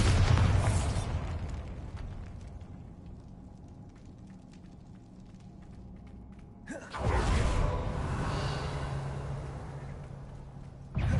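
A Bombarda spell detonates in Hogwarts Legacy, a loud broadband blast at the start that decays into a long rumbling tail, then a second heavy burst about seven seconds in followed by sustained rumble.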